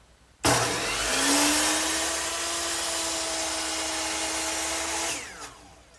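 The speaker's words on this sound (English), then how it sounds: "So to cut a piece of molding, I just slide it into place, and I'll make all my miters and fits" A saw cutting wood molding in a miter box, starting abruptly and running as a loud, steady whining buzz for about five seconds before cutting off.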